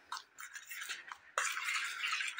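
A spoon mixes semolina idli batter with powdered milk, a close, soft scraping swish that brushes round the bowl, with a brief knock midway before more steady scraping.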